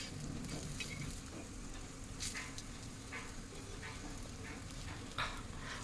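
Corn potato patties coated in rava and besan shallow fry in oil, hissing in a constant dense sizzle with occasional light clicks and spatula scrapes as they are turned, close up and without talking.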